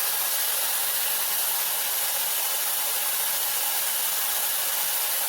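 Dyson Airwrap blowing hot air while barrel-curling hair, a steady, close, broadband whoosh of airflow holding constant for the whole stretch with no voices.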